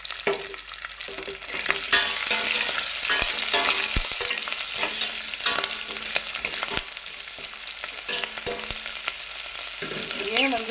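Whole onion, garlic and curry leaves sizzling in hot oil in a pan for a village-style brinjal and peanut kara kuzhambu, a loud continuous frying hiss with repeated stirring scrapes and clinks.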